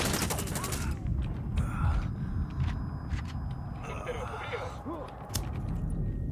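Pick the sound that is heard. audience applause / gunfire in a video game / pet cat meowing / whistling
gunfire in a video game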